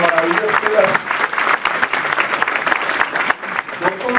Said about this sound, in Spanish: dale un aplauso al Señor, un aplauso al Espíritu Santo